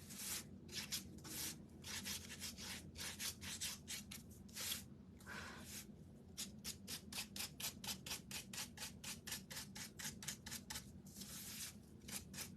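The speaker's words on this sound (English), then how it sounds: "I definitely want to get Gold Rub and Buff to finish up" Gold Rub 'n Buff finish being rubbed onto a wooden Halloween skeleton silhouette frame: quiet, rhythmic scratchy strokes, some quick and repeated, others longer and smoother, heard close up without talk.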